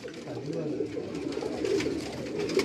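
Pigeons on a rooftop loft, including a Rampuri pair, coo in low repeated murmurs close by, with people talking over the birds throughout.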